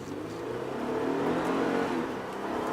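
An Acura TL with at least 280 horsepower accelerates hard from a red light, its engine rising in a smooth, steady, loud drone heard from inside the car with no talk.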